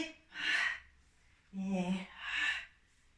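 During a Pilates exercise, a person draws deep breaths in three distinct close, breathy pulses with pauses between them, and a brief voiced sound comes partway through.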